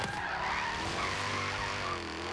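Rear of a car sliding and skidding in Forza Horizon 3, a continuous loud tire squeal over a roaring engine for the whole stretch, with no voices.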